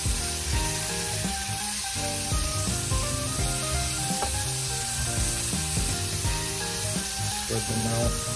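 Seasoned steak with garlic, onion powder and lemon pepper sizzles loudly and steadily in a pan while it is stirred and mixed, the frying continuous from start to finish with no talking.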